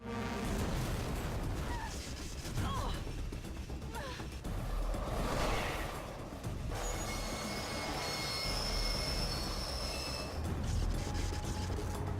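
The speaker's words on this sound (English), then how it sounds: "the ship is large enough to have its own underground train network" An underground train rolls through a vast ship in the video game Hydrophobia Prophecy, rumbling loudly with grinding rail noise and drawn-out metallic wheel squeals, plus a bright sustained screech in the latter half.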